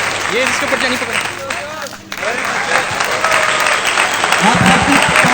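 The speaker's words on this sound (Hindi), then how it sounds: "आप सबकी तालियां कम नहीं होनी चाहिए।" Loud, sustained clapping fills a wedding gathering as a guest makes his entrance, with crowd noise and a voice speaking over the applause throughout.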